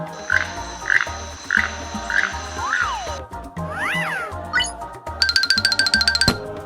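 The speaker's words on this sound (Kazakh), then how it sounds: "тукан" A toucan call in a children's bird-sound set: a series of evenly spaced, croaky, frog-like notes, followed by a few brief cartoonish sound effects and a rapid chiming pattern.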